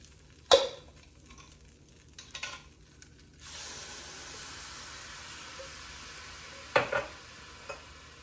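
Beef broth is poured into a pot of sausage soup: a few sharp clinks and knocks come first, then a soft, steady splashing rush of liquid continues, followed by another clatter near the end.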